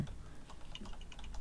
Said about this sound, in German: weil man hört deine Tastatur so laut und es nervt